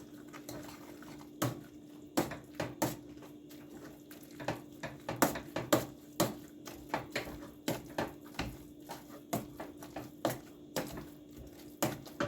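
Boiled potatoes being mashed with milk in a pot, heard as a steady run of soft, wet thumps and metal clinks as the masher strikes the bottom, close and moderately loud.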